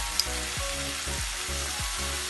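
Brussels sprouts with spices sautéing in a pan: a steady, close sizzle with rhythmic scraping stirs roughly every half second, and no talking.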